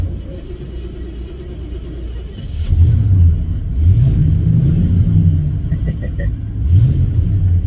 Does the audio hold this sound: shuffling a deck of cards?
no